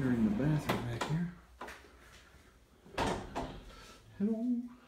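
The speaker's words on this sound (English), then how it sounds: "Got this nice barn style door for entering the bathroom back here." Barn-style sliding bathroom door in a Disney World hotel room, rolling and thudding in several short knocks and slides at close range, with a person talking between the movements.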